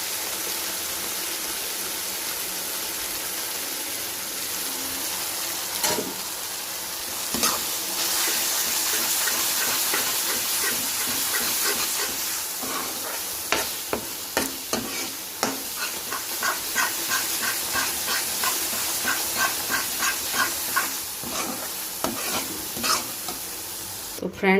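Vegetable masala sautéing in a pan with chana masala, a loud continuous sizzle joined midway by repeated scraping and knocking of a spatula stirring the mixture.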